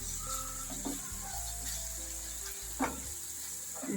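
Green chili paste frying in a pan with eggplant gives a soft, steady sizzle throughout, with a few brief stirring knocks and scrapes close by and no talk.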